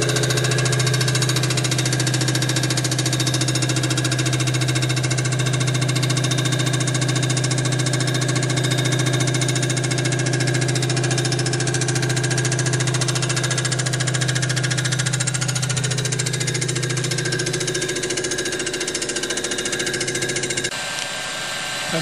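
Machine resurfacing a Chevy 216 engine block, a loud, continuous droning hum with a steady cutting grind, close by and uninterrupted until a slight drop near the end.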